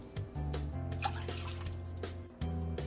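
Cider pours steadily into a container with a bright trickling splash, broken by a brief pause, with no talking.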